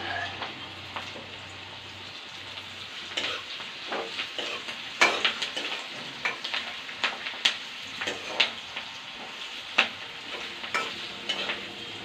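Onion with ginger and garlic fries in a pan for a local chicken dish, giving a steady close sizzle broken by scraping stirs and light clacks of a spatula against the pan, with no talking.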